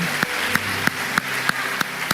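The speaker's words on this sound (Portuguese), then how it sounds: "aplauda Ele" A church congregation clapping in a steady rhythmic beat, seven evenly spaced claps over a sustained musical backdrop during worship.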